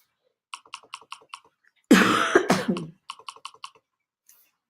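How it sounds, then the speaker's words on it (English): A short burst of coughing, close and fairly loud, set between quiet rhythmic keyboard tapping before and after. "Excuse me, I have a little cough."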